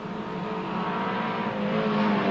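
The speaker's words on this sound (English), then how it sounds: "Jeff Bowie in the number 87 car also there at the near the rear of the field" Race cars in a heat on a racetrack, including the number 87 car near the rear of the field, roar steadily with a loud, sustained engine drone that builds slightly as the pack passes.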